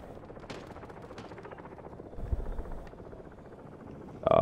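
Sparse gunshots in the shooter game Modern Warfare, a few sharp cracks spaced apart over low rumbling background, fairly faint, ending with a louder burst.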